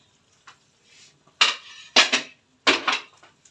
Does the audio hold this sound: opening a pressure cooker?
yes